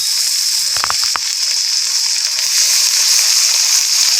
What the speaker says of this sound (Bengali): এই দেখুন, আলু আর কুঁদরি প্রায় ভাজা হয়ে গেছে। এবারে কুমড়ো আর গাজরগুলো দিয়ে দিচ্ছি।